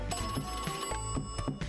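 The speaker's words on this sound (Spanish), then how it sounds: "Vale, suena el teléfono," Telephone ringing in the cat cafe management video game Cat Cafe Manager, a rapid bright electronic trill that repeats in short bursts over game background audio.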